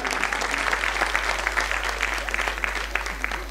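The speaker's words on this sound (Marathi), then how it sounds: "जोरदार टाळ्या द्या तिला." An audience at a children's competition clapping loudly and steadily, a dense wash of many hands throughout with no voices over it.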